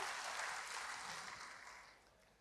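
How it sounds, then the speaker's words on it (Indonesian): A church congregation claps together during a sermon, the applause faint and distant, a soft steady patter that gradually fades away toward the end. "Berikan tepuk tangan bagi Tuhan."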